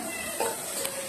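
Garlic, onion and tomato sautéing in cooking oil in a pan, a steady soft sizzle with a brief stirring scrape midway, fairly quiet and close with no talking.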